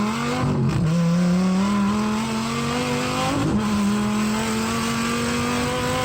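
Porsche Carrera GT engine in the racing game The Crew Motorfest, a loud steady drone with rising and falling pitch as it revs through gears, with a brief dip and shift near the start and again midway, continuous throughout with no talk.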